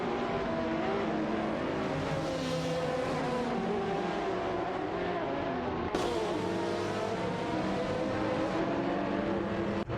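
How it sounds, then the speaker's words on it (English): A race car in an AI-driven racing game roaring at steady high revs, a loud, continuous engine drone that holds throughout with a brief shift in pitch midway. "Automobile dashing away."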